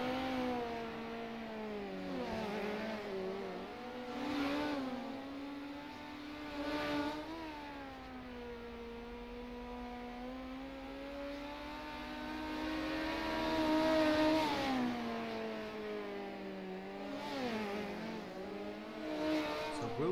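Midget race cars roar around Lanier in a sim racing game, engine notes rising and falling as several cars sweep past in turn over about twenty seconds, moderately loud with no talk.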